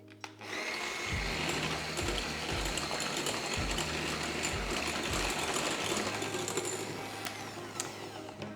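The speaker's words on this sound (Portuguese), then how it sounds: "E agora vamos bater bem batido até virar aqui, até ficar bem volumoso." An electric mixer whirs continuously as it beats eggs into a thick, voluminous batter for a white chocolate sponge cake, a steady close-up motor drone with faint rhythmic fluctuations and no talking.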